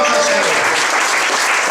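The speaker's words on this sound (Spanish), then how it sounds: "Denle un fuerte aplauso al Señor." A church congregation applauds loudly and steadily during a Spanish-language sermon, a dense wash of clapping hands filling the short moment without pause.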